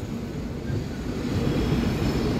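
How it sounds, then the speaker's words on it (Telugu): A passenger train pulling out of Erode Junction railway station in the early morning gives a steady, loud rumble and rolling roar that continues throughout, with no talk. "ఈరోడ్ జంక్షన్ నుంచి అయితే మన ట్రైన్ బయలుదేరిపోతుంది"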